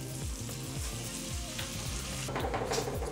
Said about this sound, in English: So butter in first, give it a chance to heat up, and then in goes your beef.